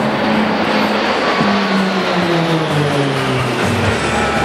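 Roulette aerobatic team aircraft flying in close formation at the Singapore air show 2012, a loud continuous engine roar with droning tones that slowly fall in pitch as the planes pass.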